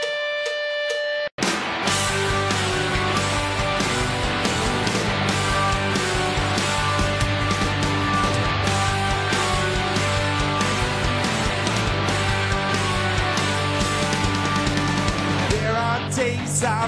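A band performs a song live in concert at Irving Plaza in 2015, full band with drums, guitars and vocals playing loudly and steadily after a brief quiet moment at the start.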